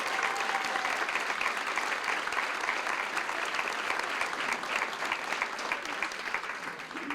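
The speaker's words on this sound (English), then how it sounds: "Give them a nice round of applause." An elementary school audience at a closing ceremony applauds former school staff with steady, sustained clapping throughout, loud and even with no pauses.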